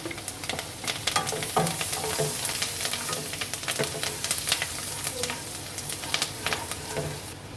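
Garlic and chopped green chillies frying in a pan for pav bhaji, a loud continuous close sizzle with dense crackling pops and occasional stirring scrapes, no voices.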